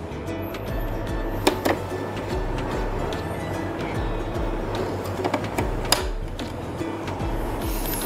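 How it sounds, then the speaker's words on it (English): An iMAC 120 ECG machine's built-in printer runs steadily, a continuous mechanical whir and rattle with faint periodic ticks and a few sharper clicks, close and alone. "It also has a stable printer."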